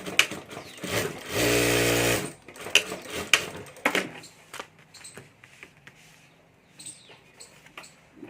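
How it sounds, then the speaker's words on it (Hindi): A sewing machine stitches along the side of a homemade hand bag in one loud, steady burst lasting about a second, framed by clicks, taps and handling noises of fabric being moved. "तो इसी तरह यहाँ दूसरी साइड भी यहाँ साइड में सिलाई कर देनी है।"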